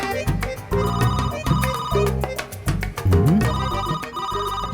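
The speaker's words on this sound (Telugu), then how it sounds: "మంగా ఫోన్ చూడవే." A telephone in a home scene from a Telugu TV serial plays a loud, melodic ringtone, repeating its jingly phrase over and over with no one speaking.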